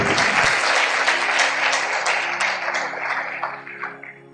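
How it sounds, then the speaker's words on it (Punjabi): A congregation claps loudly at a Christian sermon, dense applause starting abruptly and continuing steadily before slowly thinning and fading out. "ਤਾਲੀ ਮਾਰੀਏ ਜ਼ੋਰ ਤੇ"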